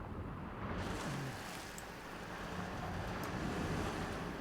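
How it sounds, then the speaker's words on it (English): Rising water rushing in aboard a rig in Still Wakes the Deep, a steady broadband roar like surf and wind, fairly loud and continuous with no talk over it. "Oh, the water's rising fast."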